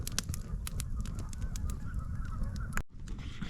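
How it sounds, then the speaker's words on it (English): A flock of geese gathered outdoors, honking repeatedly in a busy, overlapping chorus at moderate distance, with steady background noise and a brief dropout near the end. "there was definitely a giant meeting of geese over there for a while"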